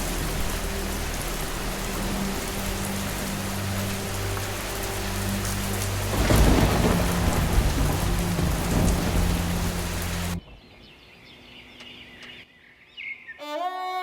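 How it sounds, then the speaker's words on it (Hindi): Heavy storm effect with steady downpour, gusting wind and hail lashing down continuously, swelling louder midway with a thunder-like surge, then cutting abruptly to a quieter, sparse stretch with faint chirps at the end. "तेज हवा, मूसलाधार बारिश और ओलों ने सब कुछ तबाह कर दिया।"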